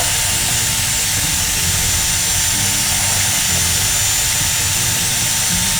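A power drill mixing epoxy resin whirs steadily and loudly throughout, its motor droning with slight changes in pitch as it churns, no voices present.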